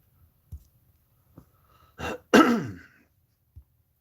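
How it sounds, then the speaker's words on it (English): A few short throat clears and coughs, the loudest a harsh burst with a rasping tail, separated by quiet pauses. "You probably caught that cough too."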